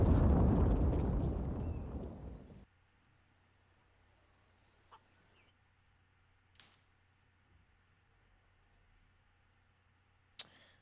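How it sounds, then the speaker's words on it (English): A bomb detonates in Counter-Strike, a loud, dense blast at the start that decays over about two seconds into near silence, followed by a few faint clicks and one sharp late tick. "Bomb goes off."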